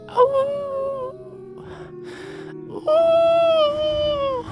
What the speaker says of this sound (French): Là, genre, t'entends genre un loup, mettons.